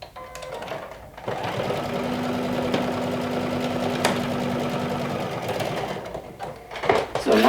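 A sewing machine sews a side seam on a lumberjack-style garment, a sustained close whirring run after a brief start, with some handling noises at the end.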